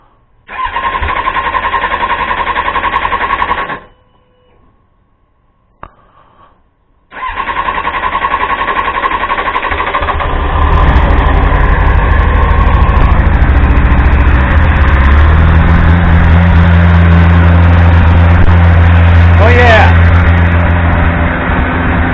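A Triumph Speed Four motorcycle engine cranks briefly and stops, then starts and keeps running loudly, settling into a steady close idle that lasts for the rest of the clip.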